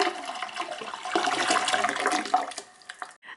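Toilet flushing as water is emptied into the bowl, a loud continuous rushing gush lasting about three seconds before tapering to quiet gurgles.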